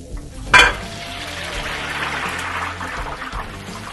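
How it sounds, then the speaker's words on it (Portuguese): Kibbeh lowered into hot oil in a Frymix deep fryer sets off a sudden loud splash and hiss, then a steady, close, bubbling sizzle with no talking. "E aqui eu vou fritar o quibe, ó."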